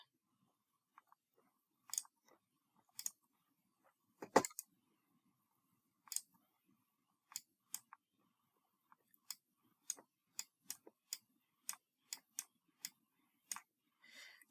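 Handwriting during a lecture: short, faint, scratchy strokes come in irregular clusters, sharper toward the end, with quiet room tone between them and no talking.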